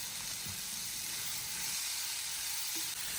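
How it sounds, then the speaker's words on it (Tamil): Tomatoes, onions and ginger with salt sautéing in a pan for Tamil-style tomato chutney, a steady close sizzle and hiss throughout with no talking. "தக்காளி வெங்காயம் நல்லா வதங்கிருச்சுப்பா"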